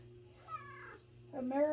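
A house cat meows twice in short, plaintive calls against a steady low hum, close and fairly quiet.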